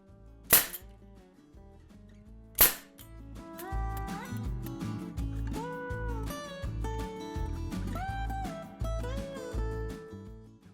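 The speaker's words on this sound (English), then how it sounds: "I'm going to staple it to the inside arm here" Two sharp, loud snaps from a staple gun fastening upholstery fabric to the inside arm of an armchair come early, then give way to a steady background music bed.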